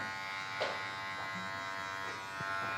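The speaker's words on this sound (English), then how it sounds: "Just scooping the clippers around." Electric hair clippers taper and blend a haircut, giving a steady close buzz throughout with faint brief scraping touches against the hair.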